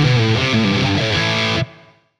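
An electric guitar played through a Tone X One amp modeler with reverb turned down rings out in a short run of distorted chords, then cuts off sharply with a brief fading tail.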